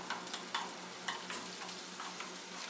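Minced onion sizzles in hot oil in a pan. A steady hiss carries a few soft crackles and light stirring scrapes, close by and moderately loud, with no voices.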